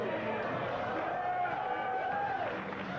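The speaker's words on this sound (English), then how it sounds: "You hear how they're cheering for Metroid?" A large crowd at E3 2001 roaring and cheering for Metroid in a steady, dense wash of noise, heard from within the audience.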